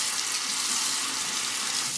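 Tap water runs steadily into a sink while a shaving brush is rinsed after lathering, a close, even hiss of flowing water with no talking.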